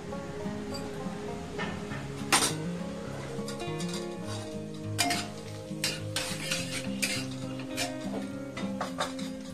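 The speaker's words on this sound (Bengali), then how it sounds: "সর্ষের তেলটা গরম হলে এতে আমি ফোড়ন দেব তেজপাতা, শুকনো লঙ্কা আর অল্প একটু জিরে" Bay leaf, dried red chilli and whole cumin spluttering and sizzling in hot mustard oil in a pan, with steady frying and repeated sharp clinks of a spoon stirring against the metal.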